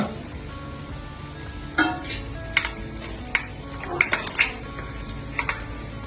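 Whole spices such as bay leaf, cardamom, cinnamon, stone flower and cloves fry in sunflower oil for chicken dum biryani, giving a steady close sizzle broken by scattered clinks and scrapes of a spoon against the pan.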